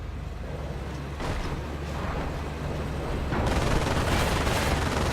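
Gunfire in a Company of Heroes 1 two-versus-two battle, with dense machine-gun and rifle fire and low rumbling blasts that swell louder toward the end.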